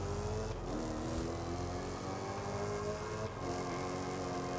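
A big V8 car engine in the Forza racing game drones steadily at a constant pitch, loud and close, with no talking.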